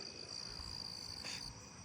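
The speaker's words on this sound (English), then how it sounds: "southeastern field cricket" A southeastern field cricket sings in a neighbourhood at night, a steady high-pitched trill held for seconds over faint background hiss.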